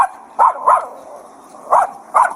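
A leashed dog in a park barks four times, loud and close, in two quick pairs separated by a pause, with a faint steady hum underneath.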